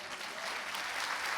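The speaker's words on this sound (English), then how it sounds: "applaud for the women who came forward" An audience at a live onstage conversation applauding, a dense, steady wash of clapping from many hands throughout.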